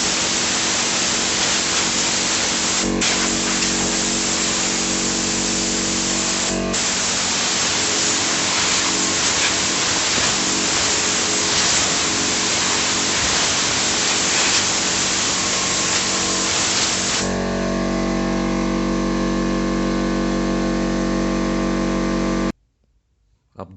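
Loud, steady rushing blast of air blowing dust out of a Soviet VD-306 welding machine, a continuous broadband hiss that changes tone partway through and cuts off abruptly near the end.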